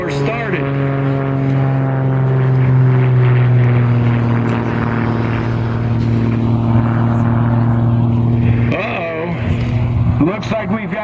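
A vintage aerobatic propeller airplane flies at a World War II airshow weekend, its droning engine loud and close, holding a steady pitch before shifting as it passes. A voice talks over the engine throughout.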